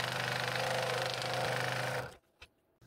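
A scroll saw cuts a segment ring for a wooden bowl with a fast, buzzing reciprocating chatter, loud and close, then stops abruptly after two seconds, leaving near silence with a small knock.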